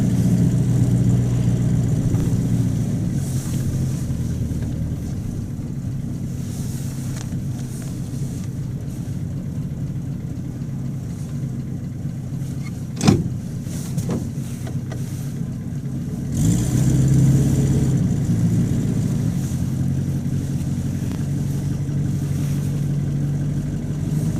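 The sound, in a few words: Buick Roadmaster engine while being driven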